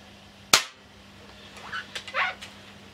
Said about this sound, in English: let's shoot some shots through the chronograph